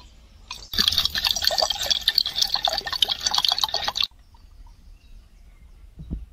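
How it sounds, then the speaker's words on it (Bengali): Water poured from above onto mashed green mango for juice makes a close, splashing pour lasting about three seconds, followed by near quiet and a single small knock. "বন্ধুরা এবার আমি উপর থেকে একটু জল দেবো"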